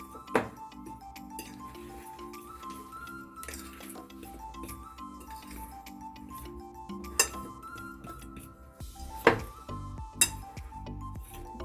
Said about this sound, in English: And then I'm going to give this a good mix.